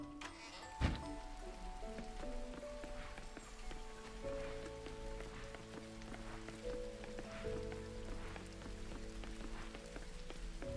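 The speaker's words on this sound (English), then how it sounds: "Ah, nice ASMR rain sounds." Rain falls steadily in the farming video game Coral Island, a soft, continuous patter heard against layered ambient music tones that keep shifting underneath.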